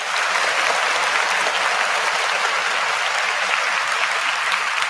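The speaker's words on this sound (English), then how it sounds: "Big round of applause for the chat, real quick." Applause sound effect on a live indie music show stream, steady loud crowd clapping throughout at an even level with no voices.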